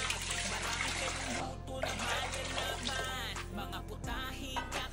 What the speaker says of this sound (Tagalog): Paglalagay naman ako ng tubig ngayon.